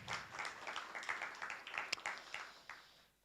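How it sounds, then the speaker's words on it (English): Youth hackathon audience applauding a presenting team, a steady wash of many hands clapping at moderate distance that gradually fades out over a few seconds. "give a huge round of applause to Color Noises"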